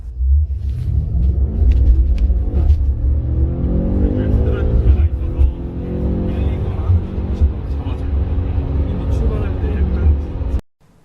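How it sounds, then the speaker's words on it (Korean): A 625-horsepower BMW M5 Competition sedan in Sport Plus mode with its exhaust flaps open gives a deep, loud exhaust rumble that climbs through rising revs and shifts, then cuts off abruptly near the end. "그때 스포츠 플러스의 배기 플립 열고 시원하게 밟아보면 너무 짜릿할 겁니다."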